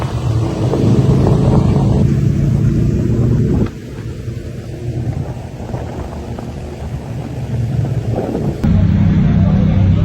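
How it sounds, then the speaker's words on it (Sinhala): A group of big motorcycles rolls toward the listener, a loud, steady engine rumble with wind buffeting that dips briefly mid-pass before surging back up. "බයික් සද්දයකුත් දෙනවා මෙතන බයික්ස් ටික මේ පැත්තට එනවා"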